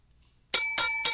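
A bell is struck three times in quick succession after a moment of silence, each ring bright and metallic with a sharp attack and a short shimmering decay.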